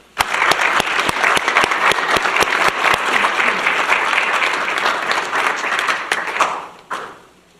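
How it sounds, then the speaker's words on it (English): Applause at a college teacher appreciation night, with sharp individual claps standing out in a dense, sustained burst that starts abruptly, holds steady and then fades out with a last few claps. "a round of applause"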